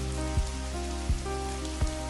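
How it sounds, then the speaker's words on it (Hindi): Heavy evening rain pours against a studio window as a continuous hiss, with soft, regularly spaced thuds and a low, steady tonal hum beneath it. "उस शाम बारिश और तेज हो गई थी।"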